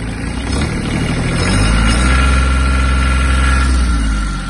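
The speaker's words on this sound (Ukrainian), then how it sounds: "Можемо ще віддати газу." A Kubota GB-135 Japanese diesel mini tractor engine revving up from idle, a loud, close, steady mechanical drone that swells in the middle and eases back, with no voices.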